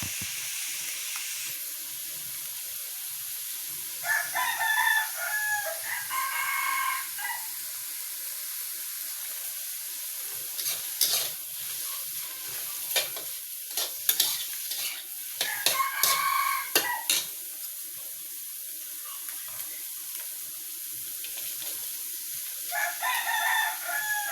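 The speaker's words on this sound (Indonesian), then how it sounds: "Ayam aku ini mengigau bah." A pet rooster crows three times, loud and nearby, with long drawn-out calls spaced several seconds apart, over soft sizzling and stirring from breakfast being fried in a pan.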